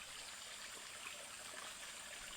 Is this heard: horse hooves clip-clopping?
no